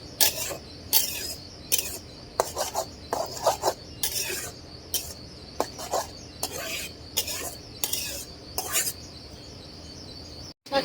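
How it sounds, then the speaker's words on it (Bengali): Red amaranth greens being stirred in a cooking pot, with repeated short clinks and scrapes of a utensil at an irregular rhythm over a low steady background, close and moderately loud. "শাকটা এখনো হয় না, একটু লাড়া দিয়ে দিব।"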